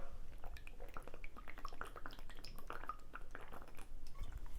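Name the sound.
drinking water from HidrateSpark smart water bottle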